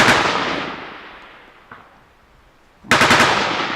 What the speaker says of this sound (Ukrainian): У нас стріляють з посадки